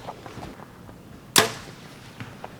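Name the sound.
arrow shot from bow hitting 3D archery target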